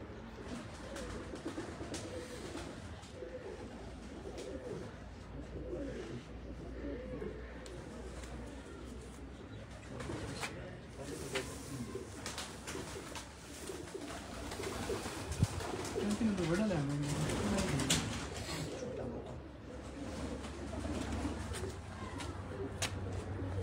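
Racing pigeons kept by a breeder coo steadily in soft, repeated throaty phrases, close by and moderately loud. Faint chirps and a steady low hum run beneath them.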